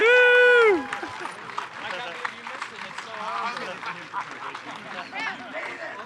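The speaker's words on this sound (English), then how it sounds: "Should we just give everyone a huge applause for Lancelot's segment Legacy?" A premiere audience at Fantastic Fest 2014 applauds after a horror anthology segment is shown during a Q&A. A brief tonal voice opens, then dense, steady clapping and crowd noise fill the room.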